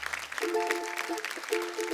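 A studio audience at a Marathi women's game show applauds, a dense wash of clapping heard under a musical sting and a voice.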